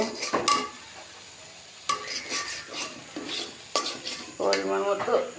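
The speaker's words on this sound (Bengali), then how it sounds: "আলুটা প্রথমে একটু ভাজি করে নিই" Potatoes frying in a pan for Bogura-style aloo ghati, sizzling under repeated scraping stirs and spoon knocks against the metal, close and moderately loud.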